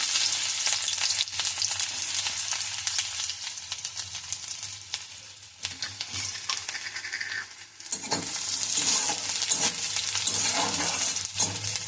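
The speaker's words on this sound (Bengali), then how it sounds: "কড়াইতে তেল দিয়ে দিয়েছি, এরপরে পেঁয়াজ কুচিটা দিয়ে দেবো" Chopped onion fries in oil in a wok, a loud sizzling hiss with crackles, dipping briefly midway before surging back strongly, no talking.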